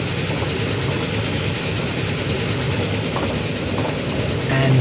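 An express passenger train rolling past in the Transport Fever 2 video game, steady rumbling wheels with faint clickety-clack over the rails, sustained and fairly loud, with no talking.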